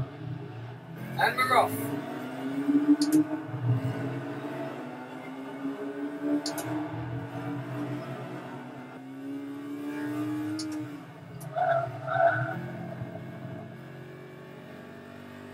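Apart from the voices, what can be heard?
car engine revving in a racing video game played with a Thrustmaster wheel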